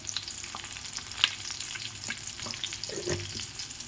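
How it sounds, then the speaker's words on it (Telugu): Peanuts and green chilies fry in a pan for lemon rice, with a steady close sizzle and an occasional stirring scrape or clink. "కొంచెం పచ్చిమిర్చి ఫ్రై అయ్యే వరకు చూద్దాము"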